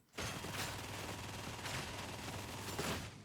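Sustained lasgun fire in the video game Warhammer 40K: Darktide, a continuous rapid burst of crackling shots that starts abruptly and holds steady, fairly quiet, for about three seconds.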